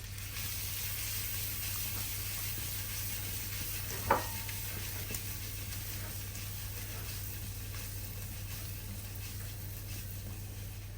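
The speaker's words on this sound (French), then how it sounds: "on prend la sauteuse et on les fait sauter" Food sautéing in a sauté pan with pepper and chopped parsley, a soft continuous sizzle under steady low hum, with one sharp knock of the pan being tossed partway through.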